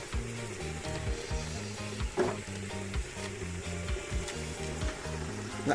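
Oil sizzles steadily in a cooking pan as ground pepper goes into a large pot of stew, with a continuous close frying hiss, a few soft stirring knocks and no voices.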